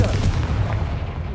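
A Confringo spell explosion in the video game Hogwarts Legacy, a short, loud, booming blast with rumbling noise filling the brief moment.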